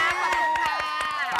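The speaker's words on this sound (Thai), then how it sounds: "ปรบมือให้เทรนเนอร์เรา" Studio audience clapping and cheering for a fitness trainer on a Thai cooking and fitness show, with scattered claps over a sustained tonal backdrop.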